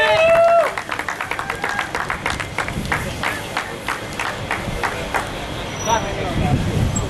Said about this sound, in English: Everyone claps at the same time to rejuvenate it